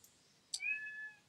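A kitten gives one short, clear meow up close in a quiet room, with a faint tick just before.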